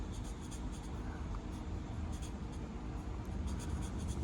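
Marker drawing graffiti letters on paper, heard as a quiet, steady scratchy rub of felt tip on the page with short stroke bursts and no talking.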